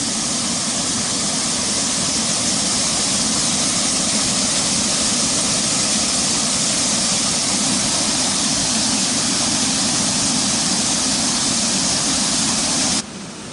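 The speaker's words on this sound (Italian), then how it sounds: "ascoltate il rumore dell'acqua" Rushing water in the sunken hollow ways of Pitigliano, a loud, continuous broadband roar heard close up that stays steady for the whole span and cuts off sharply just before the end, with no talking.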